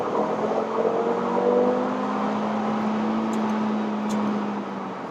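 A 2018 Audi RS3 accelerating up to the speed limit on a wet day, its engine note rising steadily and droning loud and close from inside the car for several seconds, with no talk.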